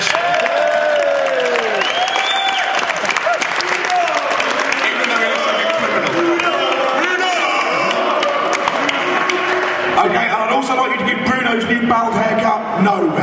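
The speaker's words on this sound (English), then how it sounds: "everyone should give Bruno's t-shirt a round of applause" Audience applause at a LugRadio Live 2007 event, a loud, dense clapping crowd with cheers and whoops, voices shouting over the clapping throughout.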